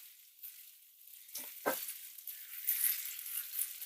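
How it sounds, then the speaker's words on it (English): Brussels sprouts, mushrooms and kielbasa fry in a pan, giving a soft, steady hiss of sizzling with a few brief scraping stirs near the middle, quiet and close. "So we're going to stir this all in, get these nice and caramelized"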